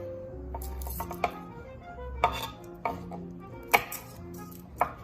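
A knife dices vegetables on a cutting board, producing about half a dozen crisp, separate chops spaced roughly a second apart, close and clear, with no talk.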